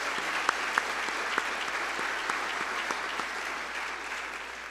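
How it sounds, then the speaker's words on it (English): Audience applause at a university athletic hall of fame ceremony, steady moderate clapping from a crowd in an indoor hall, heard alone without speech. "that kind of deserves another round of applause"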